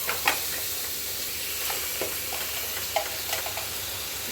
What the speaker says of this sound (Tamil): இப்போ சிக்கன் ஆட் பண்ணிக்கலாம்.